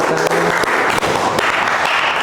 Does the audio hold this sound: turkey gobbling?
no